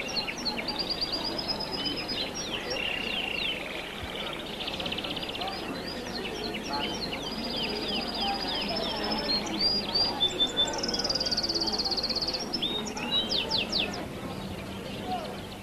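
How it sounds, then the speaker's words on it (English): Caged songbirds such as bullfinches, goldfinches, linnets and canaries sing in the narrow back streets of Corfu, a dense overlapping chorus of high chirps and trills that carries on throughout with a faint background hum. "wherever you go, you can hear bird songs"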